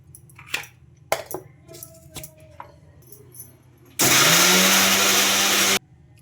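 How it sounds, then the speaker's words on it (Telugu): A mixer grinder whirs loudly for nearly two seconds while grinding masala with dry coconut powder and coriander, following a few quieter kitchen clatters and knocks. "ఇంకా అన్నీ ఇందులోకి వేసేసుకొని గ్రైండ్ చేసుకోవాలి మసాలా అయితే"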